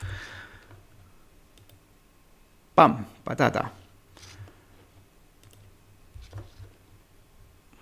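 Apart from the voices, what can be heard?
computer mouse clicking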